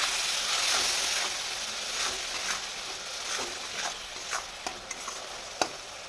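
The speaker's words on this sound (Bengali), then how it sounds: "মশলাটাকে কষিয়ে নেব। কষিয়ে নেওয়ার জন্য দিয়ে দেবো অল্প একটু জল" Spice masala fries in a pan with a splash of water, giving a bright hissing sizzle that gradually quiets, punctuated by a few sharp clicks and taps of a spatula.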